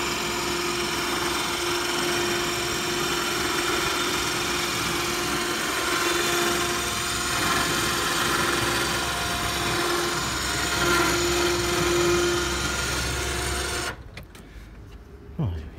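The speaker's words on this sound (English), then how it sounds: "It's quite a noisy winch motor" The winch motor in a wheelchair-accessible mobility car whines steadily and fairly loudly for a long stretch, then stops abruptly, leaving quiet room sound and a faint shuffle afterward.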